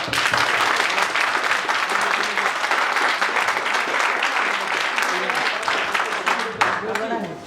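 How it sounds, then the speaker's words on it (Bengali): An audience breaks into loud, continuous applause for a cricket team at a celebration event, dense clapping filling the room over a few voices talking before it tapers at the end. "তাদের জন্য করতালি"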